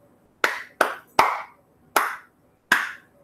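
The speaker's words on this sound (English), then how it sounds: "Now let's take those nicknames out and think them and just clap them." Five sharp hand claps in an uneven rhythm, loud and close with quick decays, spaced across a few seconds with no talk.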